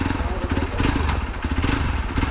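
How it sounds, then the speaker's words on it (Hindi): A Hero XPulse motorcycle crosses a river near Shivpuri, Rishikesh, its engine close and loud with a rapid, pulsing thrum that rises and falls slightly as the rider pushes through the water. "तो गाइस अब ये देखिए हमारे राइडर साहब रिवर क्रॉस करेंगे।"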